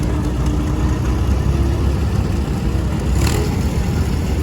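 A 1939 Allis-Chalmers model WC tractor engine runs steadily in an antique tractor parade, a continuous mid-low rumble at close range with a brief louder swell near the end and no talk.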